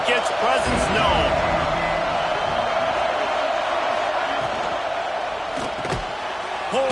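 Dense, steady roar of a stadium crowd in an NCAA college football video game, a broad wash of cheering that holds loud for about seven seconds, with a few sharp thumps and a commentator's voice running over it.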